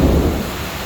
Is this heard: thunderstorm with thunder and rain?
yes